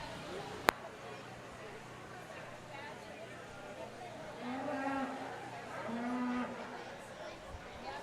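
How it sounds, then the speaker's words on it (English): Market heifers entering the show ring at a county fair beef show, with several low moos near the middle and end over steady crowd murmur and an announcer's voice. "So right now we have our market heifers entering the ring."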